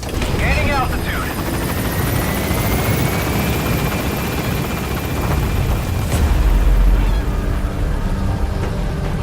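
A helicopter in the video game Metal Gear Solid V climbs as it gains altitude, its steady rotor and engine roar loud and continuous, with radio-style voice chatter over it.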